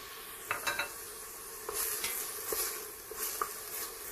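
Tomato paste sizzles in a pot for a meat and white bean stew, with a soft continuous fry and scattered scrapes and clicks of a spoon stirring against the metal.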